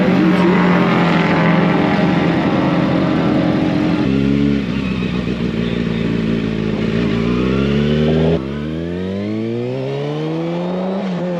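A Toyota Supra accelerates hard at a motorcycle meet, its loud engine note climbing through revs with gear-change drops and rising again, close by and continuous with no talking.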